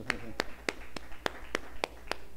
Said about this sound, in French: Applaudissez le Saint-Esprit par canal serviteur